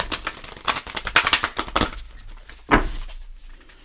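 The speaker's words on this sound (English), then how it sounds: "One more shuffle." Rapid crisp riffling and snapping of tarot cards being shuffled in quick bursts, then a pause and one more short flurry, close and fairly loud.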